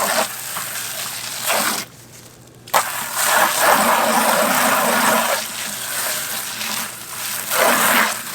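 Water gushes and splashes while 5-gallon buckets are rinsed out before being filled with dirt for sweet potato planting, a loud continuous rush with a short pause partway through.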